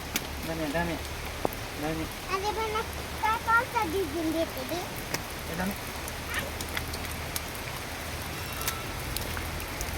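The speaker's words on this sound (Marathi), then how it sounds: "धबधबा नाही पाऊस चालू आहे" Rain falls in a continuous hiss while people talk over it during the first half, then the rain carries on alone.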